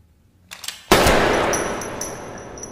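Gunfire rings out in a tense film scene: a few small clicks and then one loud, booming blast whose ring fades slowly, leaving a metallic tail.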